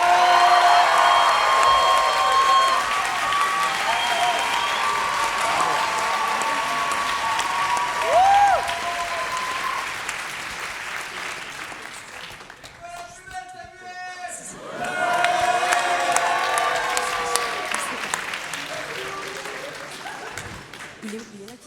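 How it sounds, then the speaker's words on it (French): Dense crowd applause and cheering for dancers at a student talent show, loud and sustained, with voices talking over it, dipping briefly to a lull before surging back. "un tonnerre d'applaudissements, s'il vous plaît, pour les danseuses"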